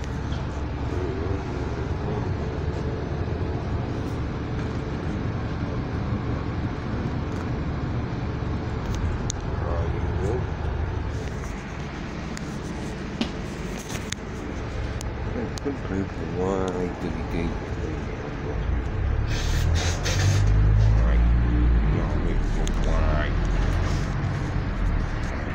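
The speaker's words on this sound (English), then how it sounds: "There's a truck." Steady roadway noise rumbles throughout, then a heavy truck rolls past with a swelling low roar near the end, while someone talks over the traffic.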